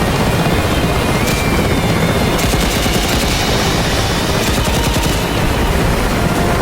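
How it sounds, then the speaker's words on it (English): An Mi-8 helicopter's loud rotor roar fills a DCS World base attack, with bursts of rapid machine-gun fire cutting through in short volleys over the steady engine noise. "There's a second helicopter in here."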